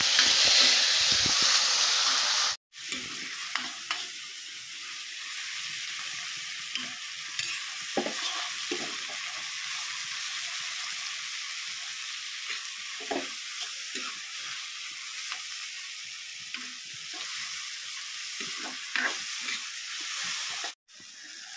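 Onion frying in a pan while tomato is added, a loud opening sizzle that drops suddenly, then a quieter steady fry with scattered stirring scrapes until a brief cutoff near the end.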